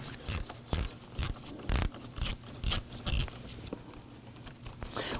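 Quarter-inch ratchet with a 10mm socket loosening a Toyota Camry battery ground terminal bolt, giving a series of quick, close clicking bursts in an uneven rhythm that thin out toward the end.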